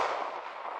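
A .380 ACP pistol fires into a clear ballistics gel block, producing one loud, sharp report with a harsh, brief ring-out.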